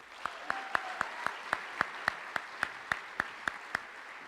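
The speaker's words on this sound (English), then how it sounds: "Another round of applause for Grace." At a high school honors convocation, sparse claps ring out for an award recipient, evenly spaced sharp slaps in a steady rhythm, about four per second, fairly faint and distant over a quiet room.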